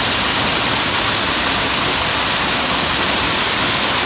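Ryūtō Falls, one of the Goryū waterfalls at Jakuchikyō gorge, roars steadily, a dense, unbroken wash of rushing water filling the whole stretch with no other sounds.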